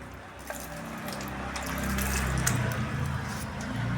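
Steady splashing of water poured onto a mango tree in a grow bag on a rooftop, a continuous running flow that grows slightly louder toward the end, with no voices.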